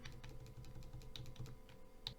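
Keystrokes on a computer keyboard while entering a Git command, a quick run of light, near clicks with a couple of sharper taps, no voices.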